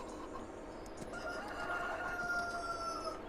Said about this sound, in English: The old cockerel giving us a good morning there